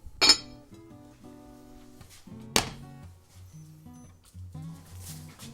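A lid is set down on a pot of water steeping kelp for tofu broth, giving two sharp metallic clinks about two seconds apart over a quiet kitchen hum.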